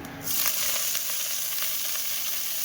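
Leafy greens (shak) frying in hot oil with black cumin, a loud steady sizzle that starts abruptly and holds constant with faint crackles throughout.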